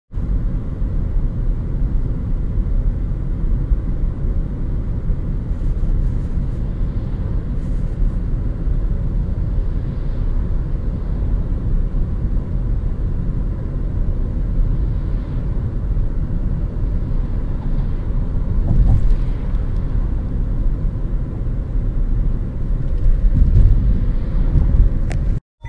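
Steady low road rumble and wind noise from inside a Nissan Leaf 24 kWh electric car cruising on a highway, a constant drone throughout with no speech and no engine note.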